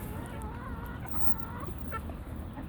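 Chickens clucking steadily on a farm where dogs are being fed raw meat, a continuous low murmur of fowl sounds over a busy background, with no speech.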